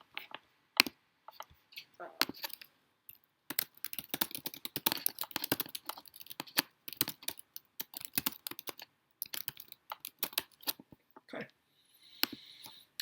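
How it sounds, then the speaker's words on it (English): Typing on a computer keyboard: rapid, irregular bursts of close, crisp key clicks with short pauses, continuing for several seconds at a moderate level, with no talking. "let me type it out, it's faster."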